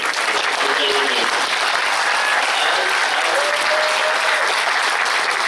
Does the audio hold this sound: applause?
yes